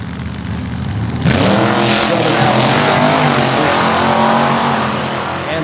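A supercharged big-block Chevy gasser roars at a drag strip, suddenly bursting into a loud, sustained, rasping engine howl after a moment of lower crowd and track noise.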